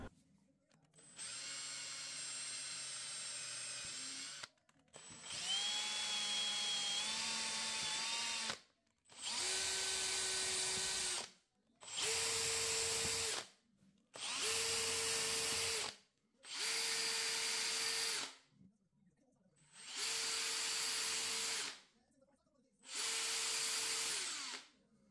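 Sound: drill boring holes for screws in a wooden shelf

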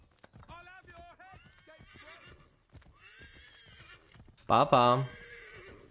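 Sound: horse neighing and hooves in Assassin's Creed 3 Remastered video game

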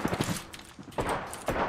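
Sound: sniper gunfire in Apex Legends (video game)

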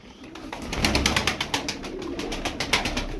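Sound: tumbler pigeons cooing in a flock

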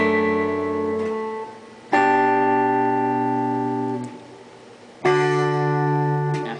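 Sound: guitar plucking 5th string then 1st and 2nd together

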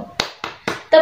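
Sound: hand clapping in the 'carpenter clap' children's song

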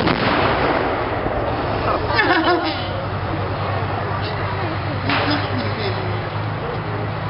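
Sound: tank gun firing a bang at War and Peace Show

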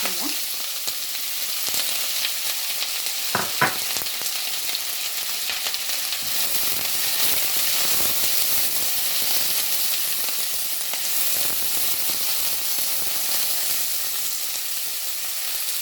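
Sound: fennel seeds and onion frying in a pan

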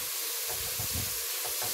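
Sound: tomatoes frying and sizzling in a pan

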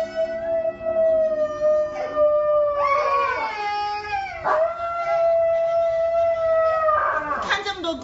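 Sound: Alaskan Malamute puppy howling/crying along with a kid

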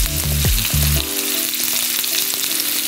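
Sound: sausage frying in hot oil in a pan

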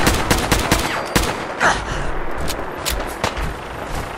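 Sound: gunfire in the video game Fallout 4

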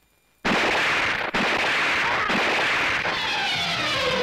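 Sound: pistol gunshots in a film

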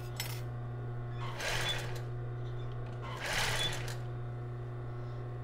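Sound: sewing machine stitching butyl elastic onto thong panties

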